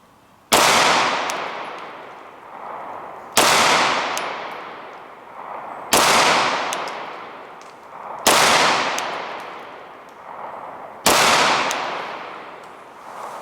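Five single shots from a Zev OZ9 pistol at 5 yards on a shooting range, each a loud sharp crack with a ringing decay, spaced slowly and evenly about two and a half seconds apart.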